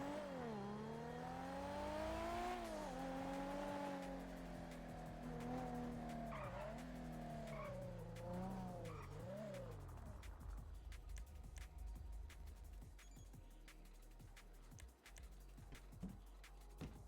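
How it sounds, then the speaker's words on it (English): Loud car in GTA RP driving hard, its engine roaring and sweeping up and down in pitch with tire squeal for about ten seconds, then dropping to rumbling, clattering road noise. "the car is loud as fuck"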